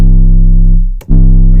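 A synthesized 808 sine-wave bass pushed through a wave shaper set all the way up, giving a loud, buzzy, harmonically rich sustained tone that briefly cuts out and then returns at full strength.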